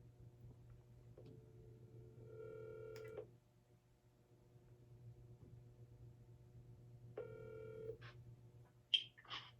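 Telephone keypad tones dial out in two bursts of beeps, each followed by the start of a call connecting, over a steady low hum with no talk; the call reaches a baseball podcast guest.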